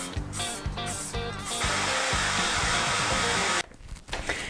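An aerosol spray can paints a bike frame in short hissing bursts, then one long sustained spray, close and loud, with brief pauses and a faint rattle of handling after.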